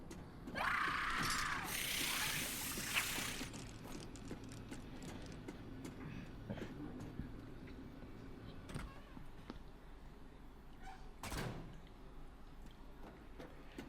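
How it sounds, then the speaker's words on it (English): Elevator ride in the horror video game Tormented Souls 2, with a loud mechanical grinding and rattling burst at the start, then a low, steady mechanical hum with occasional clunks and knocks as the car travels. "We're going to ride the elevator back up to B2 next."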